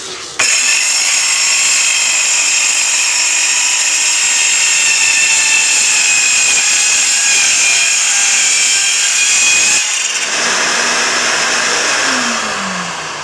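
A Porter-Cable 314 worm-drive circular saw cuts through wood with a loud, steady high whine that runs unbroken for about ten seconds. The motor then spins down with a falling tone once the cut is done.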